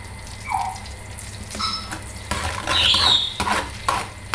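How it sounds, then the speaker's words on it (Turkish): A spoon stirs soup in a pot with soft liquid swishes and light clinks against the side, alone and close, with a few brighter scrapes toward the middle. "Arada çorbamı karıştırmamı da ihmal etmiyorum tabii."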